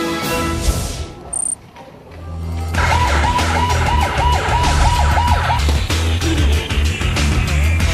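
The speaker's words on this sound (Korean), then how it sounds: "평택에서 인천까지 한달음에 달려온 구급차." An ambulance racing from Pyeongtaek to Incheon sounds its wailing siren, which rises in loudness and holds close and steady with a rapid warbling pattern over traffic rumble, after a few seconds of quieter mixed sounds.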